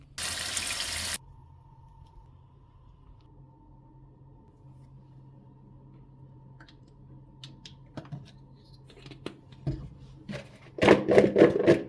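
Water from a kitchen tap runs loudly for about a second as chicken fillet is washed, then a quiet hum follows, with scattered clicks and handling sounds and a final burst of splashing and clattering.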